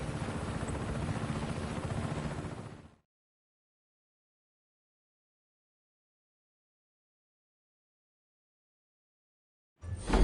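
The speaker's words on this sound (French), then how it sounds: "En hélico, mon frère." Helicopter from the video game Just Cause 3, a loud broadband engine and rotor roar for about three seconds that cuts to silence, then returns briefly at the very end.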